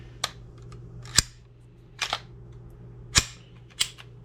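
A Walther PPQ 45 or M&P 45 pistol is checked clear at close range, with five crisp metallic clicks and clacks of the slide and action spaced unevenly over a faint steady hum.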